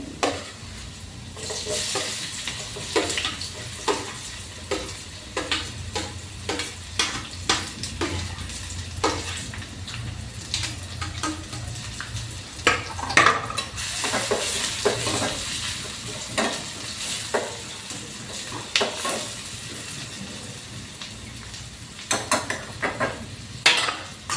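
Onion frying in a pan on a home stove, a steady soft sizzle broken by repeated scrapes and clinks of a spoon stirring against the metal, close and without speech, during festival food preparation.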